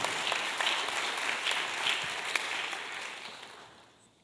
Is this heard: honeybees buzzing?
no